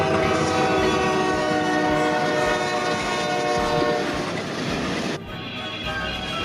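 A runaway freight train with its cars rolls in a continuous loud rumble while a sustained horn blares over it and then cuts off abruptly, leaving the rolling rail noise.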